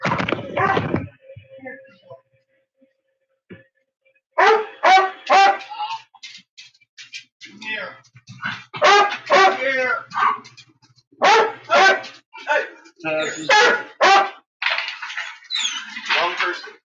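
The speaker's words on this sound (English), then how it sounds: "He's walking you crazy dog." Dog barking in repeated loud bursts, close by, with clusters of sharp barks separated by short pauses and a brief whimper-like sound early on.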